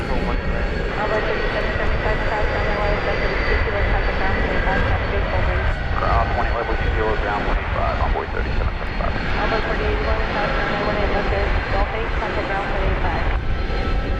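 A fixed-wing airliner rumbles steadily on the move at DFW Airport during a flap test, its engine roar broad and continuous, with outdoor ambience and a voice speaking occasionally over it.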